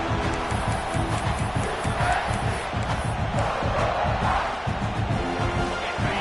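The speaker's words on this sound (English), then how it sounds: "The crowd getting behind this defense as they try to get a stop in the red zone." A football stadium crowd at a Florida at South Carolina college game roars loudly and steadily, backing the home defense in the red zone, a dense sustained wall of cheering and shouting with rhythmic chanting underneath.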